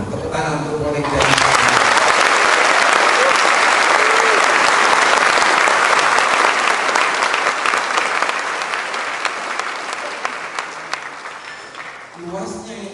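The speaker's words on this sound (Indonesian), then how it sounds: "Tepuk tangan untuk Polek" A lecture audience breaks into dense, sustained applause at an industry practitioner talk on transportation human resources. The clapping starts abruptly, holds loud for several seconds and then slowly thins out near the end.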